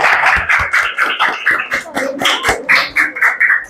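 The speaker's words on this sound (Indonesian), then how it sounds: "Tepuk tangan untuk kita semua." Children in a classroom clap their hands together in loud, rhythmic bursts, each clap sharp and close, grouped in quick repeated patterns across the whole stretch.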